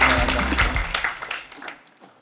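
Audience applause at a live comedy evening show, a dense burst of clapping that starts loud and steadily thins and fades out over about two seconds.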